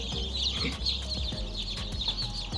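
Newly hatched chicks in an incubator's hatching basket cheep in a constant, close, shrill chorus, with soft shuffling and low rumbling underneath.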